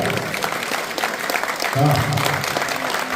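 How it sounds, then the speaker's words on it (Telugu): Devotees clap together during an Ayyappa Maha Padi Puja, a dense, steady patter of hand claps filling the space, with voices and chanting mixed in underneath. "ఒక్కసారి మనం కూడా చప్పట్లు కొడుతూ అయ్యప్పకు పూలు చల్లుదాం"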